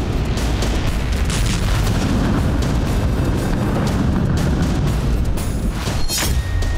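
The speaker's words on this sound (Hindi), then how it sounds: "मिसाइल ने कार को हिट किया, जोरदार धमाका हुआ" A loud, sustained roaring blast from a missile striking a car, with dense low rumble that fills the whole stretch, fading slightly toward the end.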